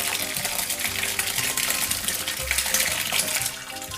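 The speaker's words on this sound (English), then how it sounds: "So then we're going to drain off the curds from the whey." Hot whey and ricotta curds pour and splash steadily as they drain, a continuous close watery rush with no talking.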